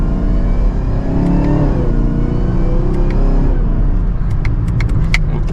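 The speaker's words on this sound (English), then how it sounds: "revving it out and just enjoying the performance that this vehicle has" A 2024 Chevrolet Camaro ZL1's engine drones loudly from inside the cabin, pitch climbing as it revs up through the gears, with small clicks and rattles.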